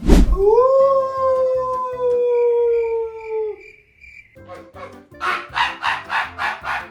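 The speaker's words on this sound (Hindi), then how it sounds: "अरे कौन भौंक रहा है ये बदतमीज" A long, wavering dog howl rings out, followed by a burst of rapid, repeated barks up close against faint background noise.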